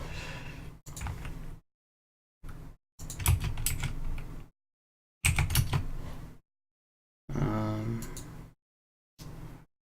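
Short bursts of typing on a computer keyboard during game development work in Construct 2, soft clattering keystrokes in several separate runs broken by silent gaps.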